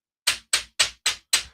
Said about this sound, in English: So here's just the regular sound of me tapping it on the desk.